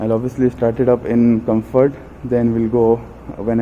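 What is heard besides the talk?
No everyday noise stands out behind the speech.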